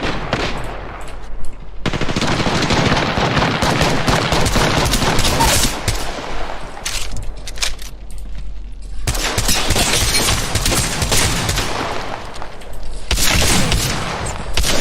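Dense automatic and single-shot gunfire in the battle royale video game Apex Legends, loud and near, coming in long bursts with brief pauses between volleys.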